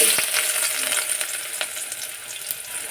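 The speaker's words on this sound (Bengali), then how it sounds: "তো এখন আমি কিন্তু পেঁয়াজ কুচিটা দিয়ে দিই।" Chopped onion hits hot oil in a pot and sizzles, a steady close frying hiss with a few light stirring clinks and pops, no voices.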